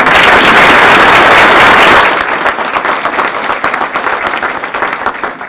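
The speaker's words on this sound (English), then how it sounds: "Let's give them a round of applause." Loud, dense applause from a crowd at a town reorganizational meeting, full for about two seconds, then thinning into scattered claps as it tapers off.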